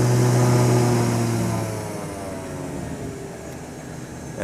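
Turboprop engine of a Beechcraft King Air 200 on the ground during runup, a loud, steady drone with tonal whine that eases slightly in level partway through.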